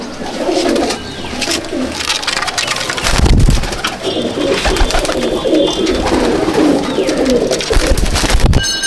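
Pigeons coo continuously in a loft, a dense layered chorus of rolling calls close by, with fluttering and scattered knocks throughout.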